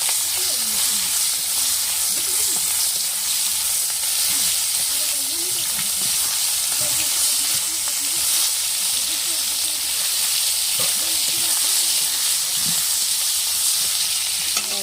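Salt-marinated shrimp fry in a hot pan for greens curry, a loud, continuous sizzle and hiss with occasional stirring clinks and a faint voice in the background.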